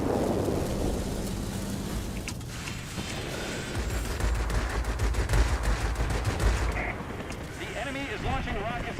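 Rockets launched at an aircraft from a military base in World of Warplanes, heavy rumbling booms and crackling blasts over a steady roar of engine and rain-like noise, with a voice speaking over parts of it.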